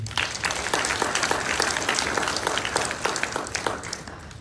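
Audience applause at a graduate student awards ceremony, a steady round of clapping from a room full of people that holds at an even level throughout, with no voices over it.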